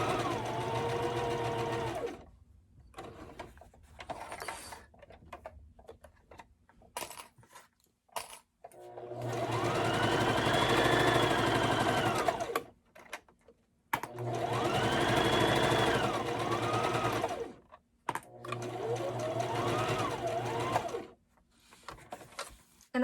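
A sewing machine stitches and backstitches a zipper pouch in three long, steady runs, each several seconds of rapid mechanical whirring, separated by quieter gaps with small clicks and handling sounds.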